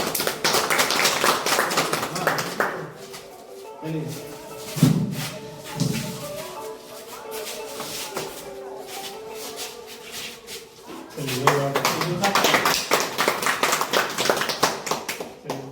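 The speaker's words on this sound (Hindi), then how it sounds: "जोरदार ताली के साथ।" An audience at a human rights organisation's district meeting in Jhajha, Bihar, India claps in bursts. The clapping is loud at first, eases in the middle and swells again near the end, with some voices mixed in.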